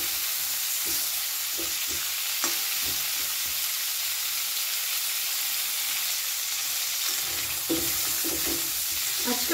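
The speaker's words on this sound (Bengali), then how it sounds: "গ্যাসের ফ্লেমটাকে মিডিয়ামে রেখে আরও কিছুক্ষণ আমি ফুলকপিটা নাড়াচাড়া করে একটু ভেজে" Cauliflower stir-fried in a pan over a medium gas flame gives a steady, close sizzling hiss throughout, with scattered soft scrapes and taps of a spatula and no voices.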